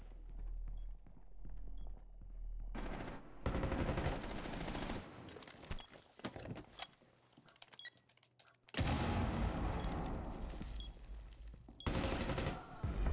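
Gunfight in Rainbow Six Siege: loud bursts of automatic gunfire and single shots cut in and out between quieter stretches with footsteps, and a heavy barrage closes the clip.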